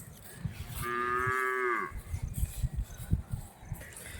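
A large cow in her second lactation gives a single clear, drawn-out moo at moderate distance over background rustling and farmyard noise.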